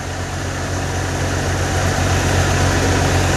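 A tractor engine idling on a farm during wheat threshing, a dense, steady low rumble that holds unchanged and close throughout, with no voices.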